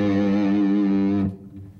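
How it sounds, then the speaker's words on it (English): A sustained pinch harmonic on a heavily distorted electric guitar rings loud and steady with rich overtones, then cuts off abruptly, leaving faint buzzing residue. "It's also called pinch harmonics or pick harmonics because they're produced with a right-hand picking technique."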